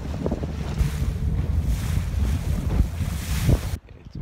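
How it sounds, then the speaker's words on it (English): Strong wind buffets the microphone on a boat off Cedar Key, a loud continuous roar with gusts and a low rumble of water, cutting off abruptly near the end. "Well, it's a little windy."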